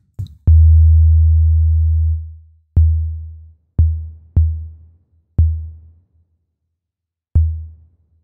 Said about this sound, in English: So if I hit a key now, we will only hear this kick.